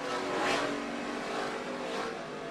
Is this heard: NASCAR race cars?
yes